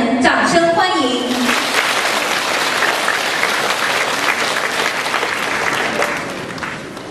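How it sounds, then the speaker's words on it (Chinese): An audience at a Buddhist gathering in Penang, Malaysia applauds warmly with sustained clapping that follows a speaker's voice at the start, then fades slightly toward the end. "让我们掌声欢迎。"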